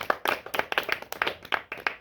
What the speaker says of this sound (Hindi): इसके लिए एक बार जोरदार ताली होना चाहिए